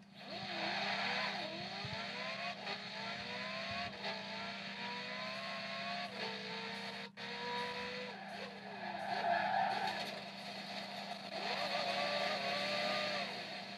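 Continuous engine drone of Forza Horizon 4 racing gameplay on a tablet, with rising gear-shift revs and repeated tire squeals and skids, steady and loud throughout, with no talking.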